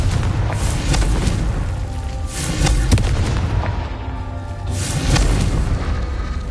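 Confringo explosion spells cast in the video game Hogwarts Legacy, a series of loud booming blasts with rumbling low end, recurring every couple of seconds over continuous game noise.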